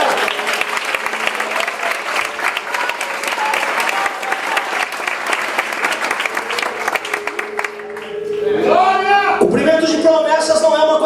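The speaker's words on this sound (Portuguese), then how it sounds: "Você pode aplaudir o Senhor" Church congregation applauding, steady dense clapping for several seconds that thins out, then a voice with music takes over near the end.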